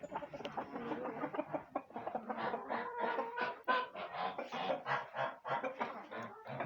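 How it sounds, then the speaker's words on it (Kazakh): Brahma and Lohmann hens clucking busily in a coop, a dense, continuous run of close, overlapping calls with no talking. "Енді тауықтарды қараймыз"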